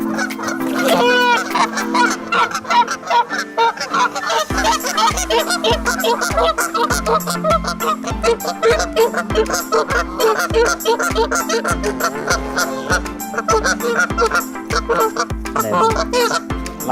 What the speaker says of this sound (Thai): พวกเป็ดก็มากินนะนี่